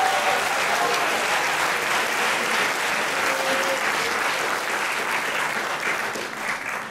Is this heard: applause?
yes